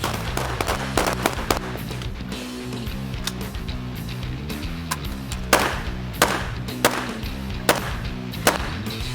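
A C7 rifle fires 5.56 mm rounds on a warship's firing range, giving a dense, irregular run of sharp, loud cracks with brief pauses between bursts.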